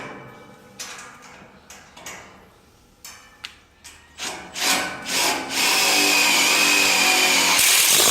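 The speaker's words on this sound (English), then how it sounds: "So we just put the 65mm screws in." A power drill drives 65mm screws into a horse stable timber panel: several short clicks and brief whirring bursts, then a rising whine that settles into a sustained, close grinding run as a screw goes in.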